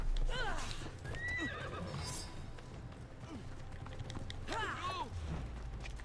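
A horse in the video game Assassin's Creed Odyssey whinnies loudly twice, near the start and again near the end, over a steady beat of clip-clopping hooves and low in-game rumble.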